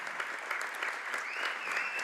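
A crowd at a D9 Class AA boys high school basketball game applauds a departing player, with steady clapping throughout and a faint voice beneath.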